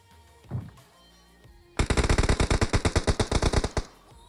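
After a brief thump, a rapid burst of automatic gunfire in a video game rattles off about twenty evenly spaced shots, loud and close, then stops.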